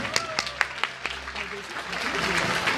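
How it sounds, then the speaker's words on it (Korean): Applause at a Korean political rally as candidates sign a pledge, starting with a few distinct claps and swelling into a broader crowd clapping, with a voice talking over it. "다시 한번 박수 보내드리겠습니다."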